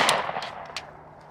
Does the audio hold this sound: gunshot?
yes